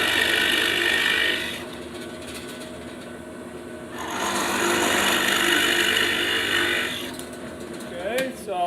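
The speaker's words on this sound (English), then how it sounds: "I might just slow the RPMs of the drill press down if you're drilling." A drill press boring into a walnut board, a loud close whirring grind that swells and eases in two long passes with a faint mechanical rattle beneath.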